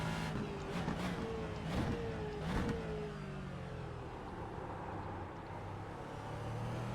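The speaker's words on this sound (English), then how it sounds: "Such a good sounding car, the Aston." Aston Martin race car engine in the iRacing simulator at Homestead, droning loud and close with pitch sweeping up and down through several sharp gear-change bursts early on, then a steadier roar.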